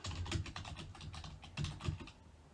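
Quick, close typing on a computer keyboard, a brisk run of clicking keystrokes in uneven bursts with a short pause partway through.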